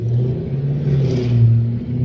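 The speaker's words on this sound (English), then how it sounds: "I'll wait for this loud car to go by" A loud car passing close on a street, its engine rumbling and swelling as it goes by, a continuous mid-pitched drone with no talking.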